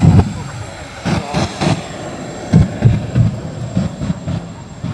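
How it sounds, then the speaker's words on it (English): A jet-powered outhouse at the Abbotsford Airshow in August 2011 gives a loud, pulsing jet roar that surges and dips in uneven bursts, with voices mixed in. "The jet-powered outhouse."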